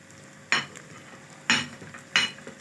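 Rice with black pepper being stirred in a pot, three distinct scraping strokes of a spoon about a second apart over a soft, low background sizzle, close and without speech.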